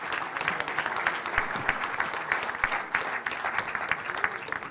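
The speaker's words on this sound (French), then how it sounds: "Bravo, Corentin, qu'on applaudit." An audience at a club presentation event claps steadily, a dense patter of many hands that stays even for several seconds.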